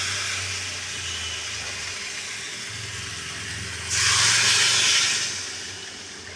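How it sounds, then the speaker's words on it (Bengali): Water poured into a hot pan of spiced katla fish curry with potato and taro bursts into a loud, steady hiss that lasts about a second and a half over a low background hum, with no one speaking. "দেখো আমার কষানো হয়ে গেছে আমি এবার জল দিয়ে দেবো"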